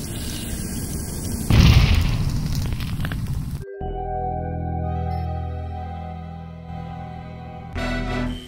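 An explosion aboard an escape pod in the video game I Expect You To Die bursts as a loud, noisy blast with a fiery roar that cuts off abruptly, followed by humming electronic tones and another noisy burst at the end.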